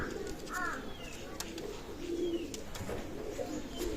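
A running pair of Firozpuri pigeons coos nearby, deep throaty calls repeating over a continuous soft background murmur, with no voices present.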